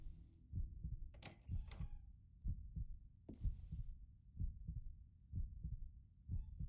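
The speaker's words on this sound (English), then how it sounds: "Heart beating really fast and hard." Fast, hard heartbeat in Call of the Sea: deep, close thumping pulses in a steady quick double-beat rhythm, with faint scraping and airy rustles between beats.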